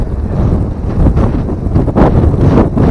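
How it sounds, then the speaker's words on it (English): Strong gusting wind of about 52 km an hour on a spring hiking trail buffets the microphone with loud, continuous low roaring and surging gusts, no voices. "It is really windy"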